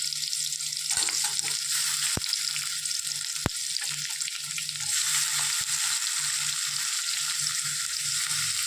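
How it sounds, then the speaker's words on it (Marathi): Curry leaves, bay leaf, green chillies and tomatoes sizzle and crackle steadily in hot oil in a pan for a chicken biryani, with a few sharp clicks of stirring over the constant frying hiss. "चांगलं गरम झालं आहे कढीपत्ता टाकून घेतला तेजपत्ता टाकून मिरच्या आणि टमाटो"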